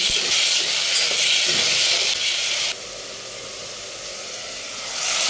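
Dal with onion, ginger and garlic paste, salt, cumin and coriander frying in a pan, a steady close sizzle and hiss that drops to a quieter level partway through and swells again near the end.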